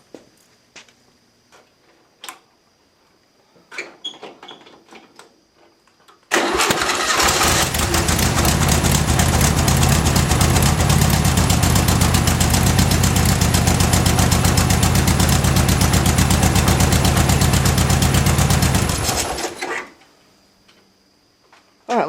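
A 1972 Volkswagen Beetle engine on a homemade trike cranks and catches, then settles into a loud, steady, rumbling idle for about twelve seconds before shutting off. Faint clicks and handling noises come before it.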